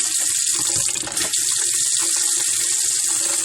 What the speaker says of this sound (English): It doesn't hurt to go around to every faucet and just run the hot water to make sure there's no air in the line also.